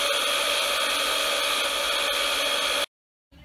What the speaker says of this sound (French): Qu'est-ce qu'il fait comme potin, ce sèche-cheveux?